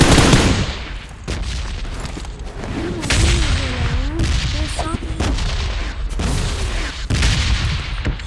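Blasts and gunfire crack around the player in a shooter video game, with an explosion going off right beside them; loud, dense bursts fill the whole stretch while excited voices talk over the action.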